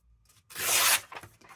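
Craft material is trimmed with one short, close tearing or cutting rasp about half a second long, followed by a few faint rustles and scrapes as it is handled.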